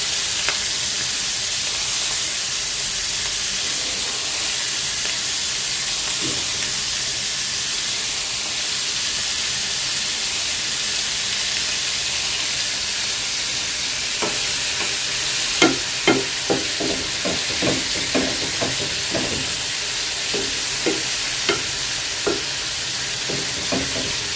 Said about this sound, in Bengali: এখন একটু ভেজে নেব আর কি হালকা একটু ভাজলে চিংড়ি মাছটা থেকে সুন্দর একটা ফ্লেভার দিয়ে হয়